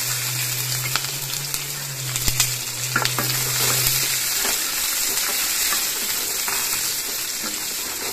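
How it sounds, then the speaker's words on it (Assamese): Onions fry in oil with greens and whole cumin, giving a continuous close sizzle with occasional stirring scrapes and a low hum in the background for the first half; nobody talks. "পিঁয়াজখিনিও একেলগে ভাজি লওঁ"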